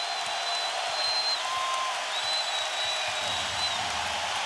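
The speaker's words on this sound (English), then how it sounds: "And this crowd on its feet." A basketball arena crowd at the 2007 NBA Finals cheers and applauds continuously, a dense, loud roar with whistles rising above it throughout.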